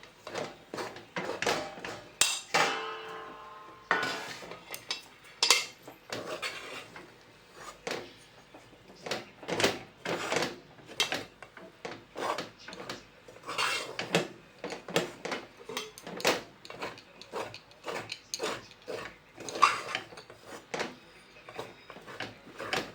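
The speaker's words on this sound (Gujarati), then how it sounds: "ચાલો એને મિક્સ કરી નાખવાનું બધાને" Stuffed bitter gourd filling with millet flour being mixed in a pan, a steady run of close, irregular scraping and tapping strokes that go on without pause, with no voices.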